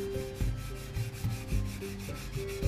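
A sanding stick works over silver paint on a Tamiya 1/24 Nissan Skyline 2000GT-R street custom model body, close rhythmic back-and-forth rubbing strokes repeating roughly every half second.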